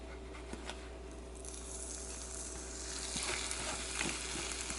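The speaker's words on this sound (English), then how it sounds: "I know it's working because I hear it sizzling" Steady frying sizzle of waffle batter in a bowl waffle maker, quiet and close, swelling a little louder toward the end with faint crackles and no voices.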